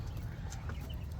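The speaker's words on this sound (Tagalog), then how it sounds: "So ito guys yung mga sisiw, 50-50 yan sa kabila." Broiler chicks in a cage make a constant busy chorus of peeps and cheeps, close and moderately loud, with overlapping calls and no clear voices.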